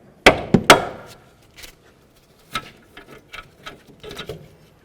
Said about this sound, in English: Now we're going to hit on the knuckle with our hammer.